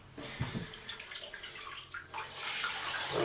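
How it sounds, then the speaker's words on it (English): Water splashes steadily while someone rinses their face over a basin, a close, continuous wet hiss with small surges and a louder flurry of splashing near the end. "let's rinse."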